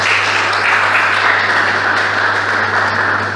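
A church congregation applauds together in sustained, steady clapping that fills the space at even strength and eases off slightly at the end, with no speech over it.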